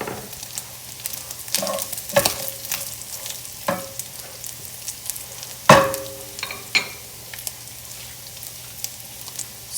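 Italian sausage sizzles and fries in a pan with rapini and orecchiette, a steady close crackle broken by occasional clinks and stirring scrapes of a utensil.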